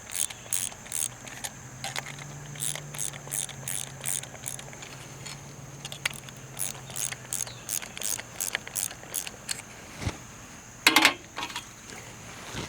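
A socket ratchet clicks in quick, steady bursts while tightening the mount of an electroculture antenna on a single tree outdoors, close and clear, with a brief louder rattle near the end.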